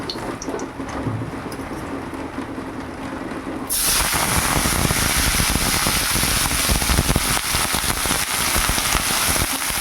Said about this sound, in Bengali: আবার বৃষ্টি শুরু হলো ঘন্টা দিয়ে বন্ধ ছিল জোর বৃষ্টি শুরু হলো